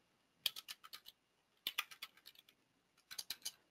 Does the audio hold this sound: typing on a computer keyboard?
yes